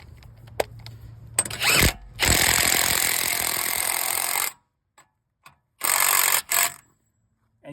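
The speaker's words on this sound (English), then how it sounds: "they tell you not to use an impact gun on that. I do." An electric impact gun drives a new CV axle nut on a 2013 GMC Yukon front axle, firing in two loud, sustained rattling bursts with brief pauses and short blips between, close up.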